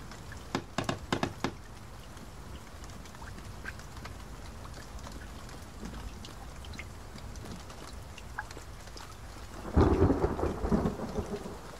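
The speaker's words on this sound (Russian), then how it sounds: "Каждый день дождь." Rain hisses steadily in The Forest, a survival video game, with a sharp crack of thunder near the start and a heavier rumbling burst near the end.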